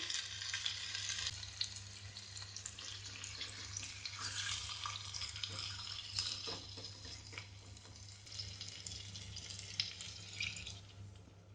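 Marinated chicken for a Goan-style chicken biryani is added to a hot pan and sizzles steadily, a faint, even hiss with a low background hum and a few soft drips.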